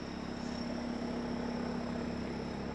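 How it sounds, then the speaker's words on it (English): A helicopter flying over Munich's city center, heard as a steady low droning hum with a faint whine, distant and continuous with no talk. "there is a helicopter again"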